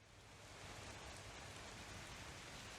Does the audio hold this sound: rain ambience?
yes